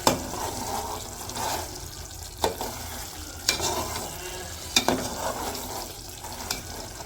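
Meat that has been slow-fried until soft sizzles and gets stirred in a pan while broth is poured in for a village-style curry. A steady low sizzle carries a few sharp clanks of the spoon, with no talking.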